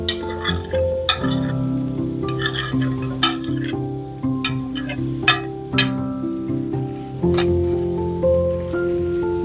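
Meat sizzling and frying in a pan for Mexican picadillo, a steady close crackle broken by sharp scrapes and clinks of stirring, with no talking.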